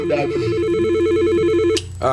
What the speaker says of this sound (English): The phone rang and you lost it?